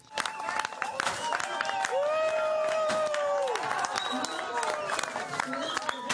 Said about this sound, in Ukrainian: публіка вибухає оплесками